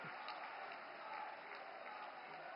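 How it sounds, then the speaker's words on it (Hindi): A large crowd at a Modi election rally in Dhar, Madhya Pradesh claps in a dense, continuous wash of applause, distant and fairly faint, sustained across the whole moment. "जोरदार ताली बजाकर के माननीय मोदी जी का अभिनंदन करें अपने अपने स्थान पर"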